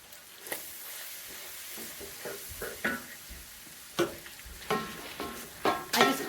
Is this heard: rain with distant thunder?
no